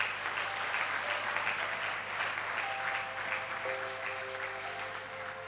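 A congregation at a Sunday church service applauds in steady, dense clapping that fills the whole moment, with faint sustained tones from an instrument or voices rising beneath it.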